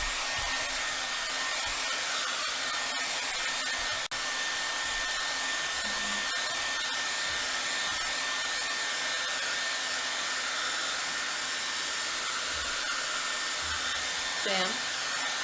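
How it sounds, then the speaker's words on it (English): A handheld blow dryer blows continuously while drying paint, a steady, loud whooshing whir held close for the whole stretch, with a brief squeak near the end and no clear talk. "take your blow dryer, and what you wanna do is turn it on, and you wanna keep it moving the whole time"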